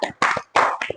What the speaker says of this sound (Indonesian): Boleh beri tepuk tangan untuk Ananda Isabel.